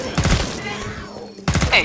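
Rapid bursts of gunfire from the video game Killing Floor 2 in a Black Forest setting, two close, loud volleys separated by a quieter stretch.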